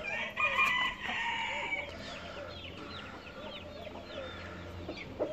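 Chickens cluck and a rooster crows inside an indoor coop in a city-centre backyard setting, a busy overlapping chorus of calls close by, steady throughout with no talking.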